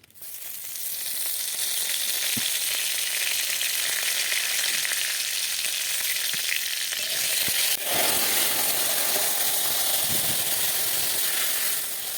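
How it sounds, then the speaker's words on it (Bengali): A rupchanda fish head with bay leaves goes into hot mustard oil and sets off a loud, close, continuous sizzle that roars on for the whole stretch with no talk over it. "মাছের মাথা দিচ্ছি, দিলাম সরষের তেল, দিলাম তেজপাতা"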